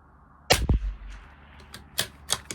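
A single sharp rifle shot from a rimfire rifle firing CCI Standard Velocity ammunition at a 100-yard target, near and loud, followed by a few fainter clicks and knocks.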